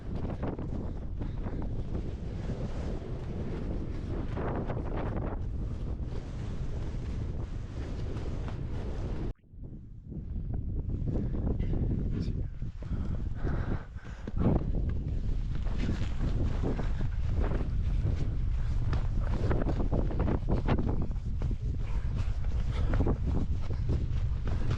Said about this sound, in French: il y a un vent de folie